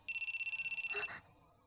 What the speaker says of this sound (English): The phone keeps on ringing.